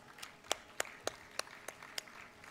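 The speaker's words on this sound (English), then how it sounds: "Can we have a round of applause?" Faint, evenly spaced handclaps, about eight sharp slaps in a steady rhythm, from an audience at a live roundtable forum, sounding thin and sparse rather than a full ovation.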